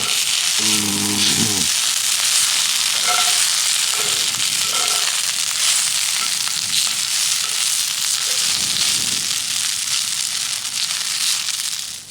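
Potatoes frying in a cast iron pan at a cold-weather truck camp, a loud close sizzle and crackle that holds steady throughout, with a few brief scraping and tapping sounds from a utensil near the start.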